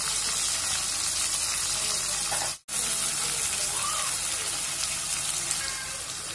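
Onions, tomato and green chilli sautéing in a pan for a dried-fish curry, giving a steady close hiss and sizzle with light stirring scrapes and one momentary dropout.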